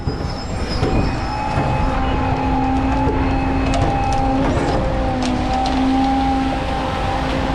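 An ILS pump kit drawing the last of the liquid from a nearly empty drum rattles loudly and continuously, with a steady mechanical drone and whining tones under the clatter.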